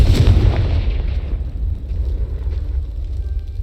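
A Confringo blasting spell explodes in Hogwarts Legacy, a loud deep boom at the start that rumbles and decays over a few seconds, with no talk.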